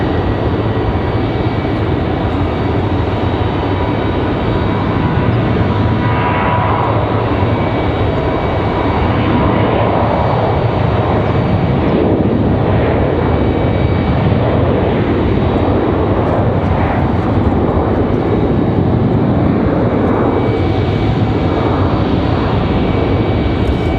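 Boeing 737-800 airliner engines at Raleigh-Durham airport, a steady broad roar that holds loud and close for the whole stretch, with no voices over it.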